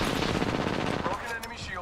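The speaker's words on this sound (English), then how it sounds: "Shots fired. And they're hitting me." Rapid automatic gunfire crackles in a video game, dense overlapping bursts of shots with game effects, loud and continuous before easing slightly toward the end.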